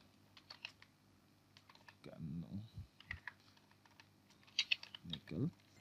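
Quiet clicking keystrokes on a computer keyboard come in short bursts, with a person speaking briefly in between.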